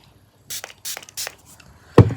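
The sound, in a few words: makeup setting spray being sprayed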